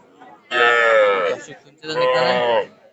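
Two drawn-out calls from young heifer calves, loud and close, each lasting nearly a second, separated by a short pause, like lowing or bleating.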